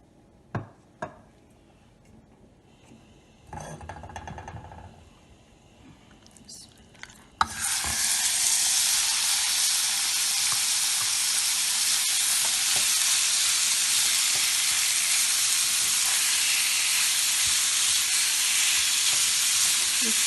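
Chicken pieces fry in a little oil in a pan: after some quiet handling and clatter, a loud, continuous sizzle suddenly erupts and holds steady to the end.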